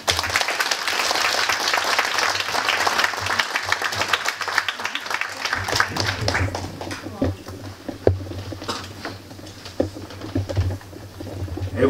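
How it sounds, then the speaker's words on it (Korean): Warm applause from a lecture-hall audience greeting the Gwangju mayor as he comes up to speak, dense and loud for the first few seconds before it thins into scattered claps under room noise and voices. "박수로 모시겠습니다."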